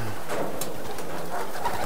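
Racing pigeons at a loft coo repeatedly, with soft throaty calls rising and falling over a steady background, close by and with no talking.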